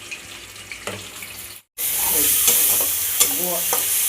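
Snakehead fish frying in oil for a kalia gives a steady close sizzle with a few crackles, cut by a brief silent gap partway through before the fry resumes louder.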